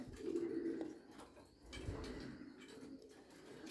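Racing pigeons coo low and throaty close by in a loft, a soft rolling murmur repeating over quiet background rustle.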